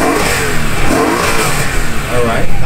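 BMW car engine revving with its exhaust valve closed, a loud steady roar that rises and falls close by, with crowd noise and voices mixed underneath.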